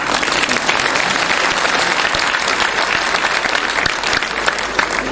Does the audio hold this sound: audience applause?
yes